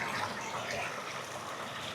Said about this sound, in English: Listen to those pipes sucking water.